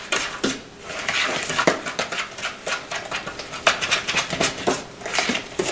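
Cornmeal batter stirred with a spoon, a close, continuous run of soft scraping and tapping strokes in a quick uneven rhythm, with no voices.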